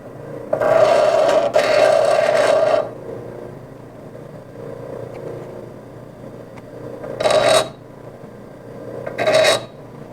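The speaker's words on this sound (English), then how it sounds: "Okay, so that was the grinder" Grinder cleaning up small metal pieces for a pencil holder: a loud, rasping grinding burst lasting about two seconds, then two shorter bursts later, with a low motor hum running between them.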